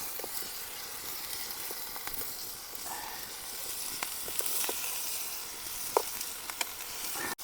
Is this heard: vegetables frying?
yes